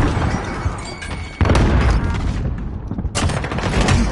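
A frag grenade explodes in a first-person shooter video game, a loud close boom with a crashing burst, followed by further blasts and gunfire-like cracks in quick succession.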